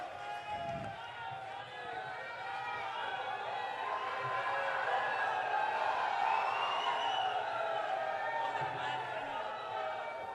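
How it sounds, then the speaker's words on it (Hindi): A large crowd at a BJP rally in Haryana, with a steady, far-off roar of clapping and cheering that swells slightly and holds throughout, while a voice speaks under it. "एक बार जोरदार तालियों से स्वागत"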